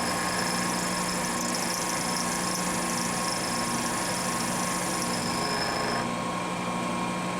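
ACRA Heavy 14 lathe taking a cutting pass of just over a hundred thousandths, a steady close machine hum with a sustained high-pitched cutting whine that drops away near the end.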